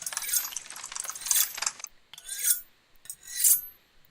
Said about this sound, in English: Knives sharpening